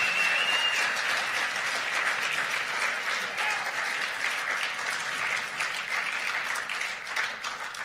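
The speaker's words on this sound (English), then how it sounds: "We're going to have another round of applause for all those phenomenal" Sustained audience applause at the Poetry Out Loud Maine State Finals, honoring the reciters before intermission; a dense, steady wash of many hands clapping at moderate distance, with no talk over it, slowly tapering near the end.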